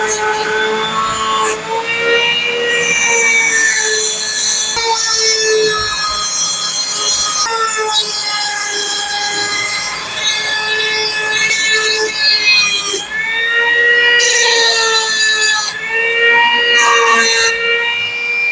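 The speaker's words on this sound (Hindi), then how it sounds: "इस पर हम अपने एब्रेसिव व्हील की टेस्टिंग करने वाले हैं कि हमारा एब्रेसिव व्हील एग्जैक्ट काम करता है या नहीं" Mini die grinder with an abrasive wheel grinding down a workpiece, a loud sustained high whine with shifting pitch running almost continuously, dipping briefly and rising again with changes in load.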